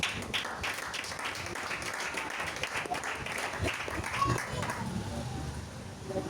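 A church congregation claps in sustained, dense applause to acclaim Jesus, a steady roomful of hands that swells slightly near the middle and continues throughout.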